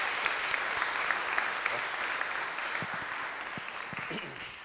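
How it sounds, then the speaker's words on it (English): Lecture audience applauding steadily, dense clapping throughout with a few louder hand claps near the end. "Let us give a round of applause."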